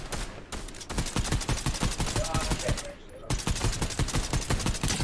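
Rapid bursts of automatic gunfire in the Fortnite video game crackle almost nonstop, with a brief lull before the shots resume at close range.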